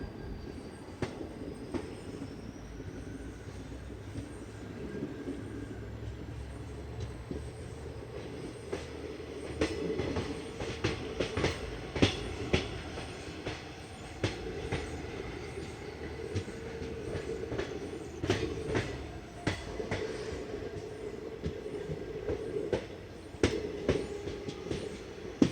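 A train runs slowly, capped at 30 km/h, through the Sakleshpur–Subrahmanya Road ghat section during the monsoon, with a steady rumble of wheels and cars and scattered sharp clicks and rail squeals throughout.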